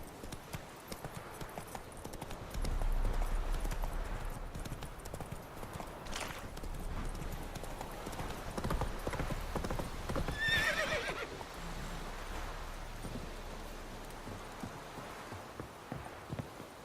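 A horse in the video game Witcher 3 gallops with steady clip-clopping hoofbeats and a brief whinny partway through, all at a fairly even, close level without talk.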